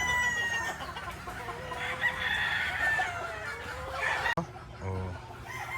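Roosters crow and chickens cluck around feeding time at a gamefowl farm with Kelso and Boston Roundhead birds, several calls overlapping close by and loud, with a sharp break near the end before quieter clucks.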